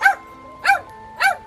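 A pet dog barks three times at a steady pace, about half a second apart, each bark sharp and fairly close, outdoors during a light November autumn rain.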